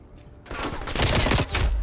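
Video game gunfire in Black Ops Cold War, a loud close burst of rapid submachine-gun shots fired in quick succession after a brief quiet start.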